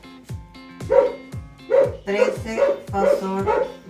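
A dog barks repeatedly in a steady sequence of sharp, close barks with yips between them, while someone talks over it.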